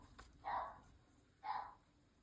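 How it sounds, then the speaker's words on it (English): Two faint dog barks roughly a second apart, distant and muffled, over a quiet background. "Don't listen to that dog barking."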